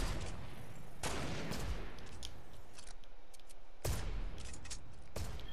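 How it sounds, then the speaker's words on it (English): Gunfire in the video game Fortnite, with several sharp, loud shots at irregular intervals ringing out over a steady background of in-game noise. "This guy's shooting at me now."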